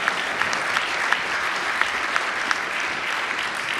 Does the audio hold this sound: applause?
yes